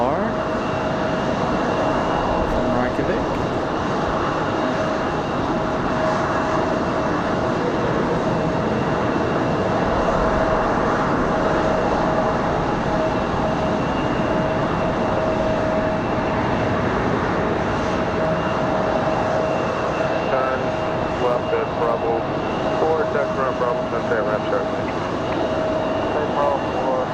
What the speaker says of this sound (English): Touchdown for our LR from Reykjavik.